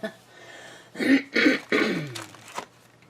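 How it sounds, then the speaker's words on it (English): A person clears their throat in a few raspy, guttural bursts, close and fairly loud, with no speech. "apparently I'm clearing my throat"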